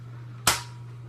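A Nerf-compatible Alphahawk toy blaster fires a dart with a single sharp, loud pop that decays quickly, standing alone over a steady low electrical hum.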